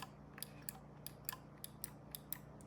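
Side buttons on a Logitech G309 gaming mouse click in a quick, even series of about ten crisp, light clicks, close and fairly quiet.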